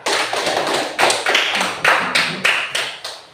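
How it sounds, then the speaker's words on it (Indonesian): Classroom applause for students: a short burst of sharp, rhythmic claps from a group, close and loud, about seven strong beats, with no talking. "Tepuk tangan dulu untuk mereka."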